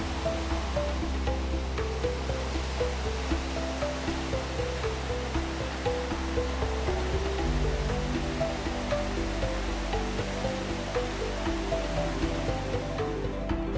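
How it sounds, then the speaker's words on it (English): Thunder Creek Falls with rushing glacier water: a steady, broad roar of falling and churning water, constant and close, with a low drone beneath it and no one speaking. "The bus stops for us to get out for a closer look at Thunder Creek Falls."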